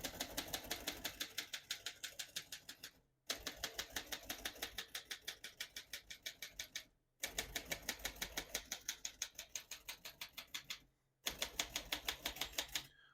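Rapid mechanical keystrokes on a 1947 Royal Quiet De Luxe manual portable typewriter clatter in steady bursts of a few seconds each, separated by brief pauses, close and crisp with no voices.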